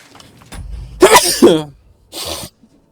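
A character in the video game Kingdom Come: Deliverance 2 gives a loud, close sneeze with a sharp intake and burst, followed moments later by a brief second exhale.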